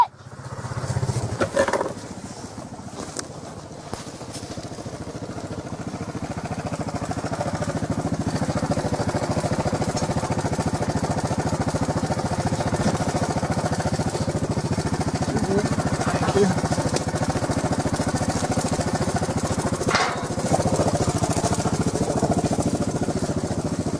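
Motorcycle engine of a biker following behind, a steady mid-pitched drone that builds after a few seconds and runs continuously at moderate distance, with faint clatter and brief voices early on.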